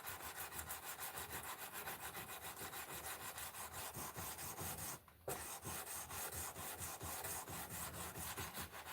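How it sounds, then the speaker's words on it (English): Wood being hand-sanded with sandpaper to remove scratches from a side panel, a steady rhythmic back-and-forth scratching that continues throughout, briefly pausing midway, close and fairly loud with no talking. "I just about got all the scratches sanded out of the side."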